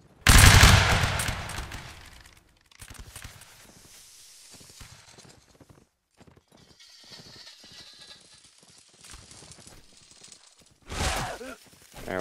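Musket volley fire in the Napoleonic Wars video game: a loud, crackling volley opens, followed by scattered quieter shots and battlefield noise, then a second sharp volley near the end.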